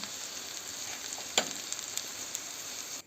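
Soft, steady sizzling of an omelette frying in a pan, with a brief clatter near the middle before it cuts off.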